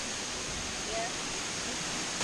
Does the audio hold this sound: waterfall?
yes